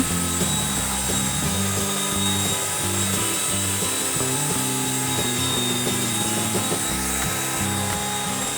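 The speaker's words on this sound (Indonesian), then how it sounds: "Mixer sampai kental berjejak." An electric hand mixer whirs continuously while beating cake batter for a tape sponge cake, a loud close motor drone with rattling and slight pitch wobble as the beaters move through the bowl.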